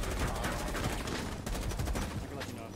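Rapid gunfire bursts crackle in a Rainbow Six Siege match, repeated shots layered with a commentator talking over them.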